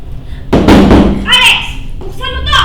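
Someone bangs hard on a closed door in a Filipino short film, a burst of loud heavy thuds with a person shouting over and between the blows.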